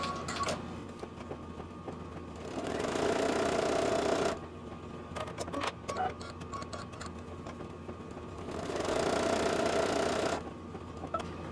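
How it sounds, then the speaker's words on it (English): A home embroidery machine stitches out placement lines for a treat-bag casing with a rapid mechanical ticking whir. The stitching comes in two bursts separated by quieter clicking pauses, close and steady, with no talk. "Next, it's going to stitch out the placement lines for the casing."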